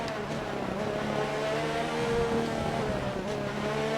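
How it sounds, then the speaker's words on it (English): A Formula 1 race car engine in the video game F1 2019 drones steadily at high revs throughout, a dense continuous roar with slight pitch shifts, close and loud with no talking. "really listening to my engine"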